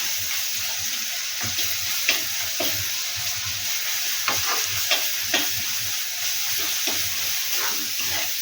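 Onion and garlic fry in oil in a pan while being stirred, a steady close sizzle broken by repeated scraping strokes of the spoon and light clinks throughout, with no voices.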